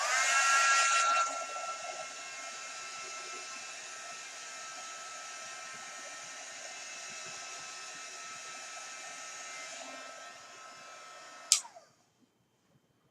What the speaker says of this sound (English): I'm going to dry it a little bit myself with my dryer.